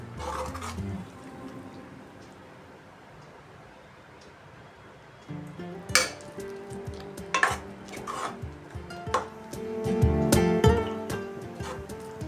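Fish curry gravy with coconut milk simmering in a pot for a quick rohu fish curry, with spoon scraping and clinking against the pan over a low bubbling background, growing busier and louder toward the end.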